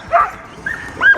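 Sled dogs in Alaska bark and yip, three short whining barks spaced apart, close and fairly loud over a faint background.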